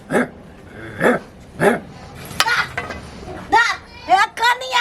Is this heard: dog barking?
yes